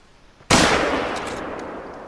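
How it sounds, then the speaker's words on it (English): A single loud .270 rifle shot at a bear in the hunting video game theHunter: Call of the Wild, a sharp crack followed by a long, rolling echo that fades slowly. "Let's go ahead and take a shot at him."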